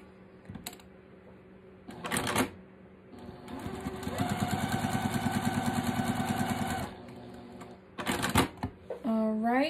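A sewing machine stitches two quilt fabric squares together, starting with a few short bursts, then a steady rapid mechanical chatter for a few seconds before stopping; scattered fabric handling and clicks surround it, and a person speaks near the end.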